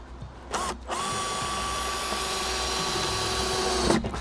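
A power drill with a screwdriver bit drives long screws into a square drop camper tailgate, a steady high whine running about three seconds after a brief start and stop, close and loud with no talk.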